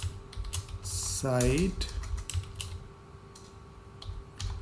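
Rapid clicking keystrokes on a computer keyboard, typed in short bursts under a voice speaking briefly, with a low steady hum in the background.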